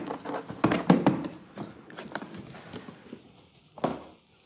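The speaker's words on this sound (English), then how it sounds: "So let's open the latches." The latches on a tactical rifle case for an LCS SK19 are opened in a quick series of close, sharp clicks and thunks, with handling knocks and a final snap.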